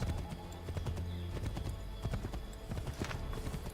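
Horse hooves while riding in the video game Assassin's Creed III, a steady close rhythmic clip-clop at a brisk gait, loud and continuous from start to end.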